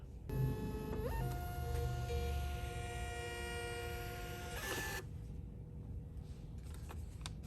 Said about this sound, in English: We'll go ahead and do a test print.